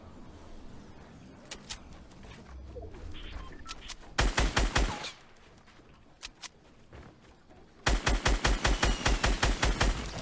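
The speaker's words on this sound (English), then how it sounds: "I hear more shooting." Automatic gunfire in the Fortnite video game comes in two rapid bursts of loud, close shots, separated by quieter stretches with scattered distant pops and light ambient noise.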